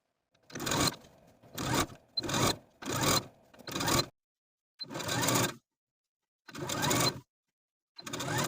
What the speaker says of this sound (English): edge stitch that fold in place all the way across